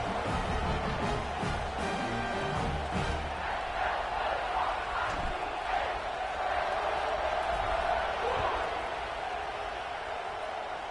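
Stadium crowd noise from the Madden 26 football video game at a kickoff, a steady broadband roar of the crowd holding at an even level throughout, with some faint busier texture early on.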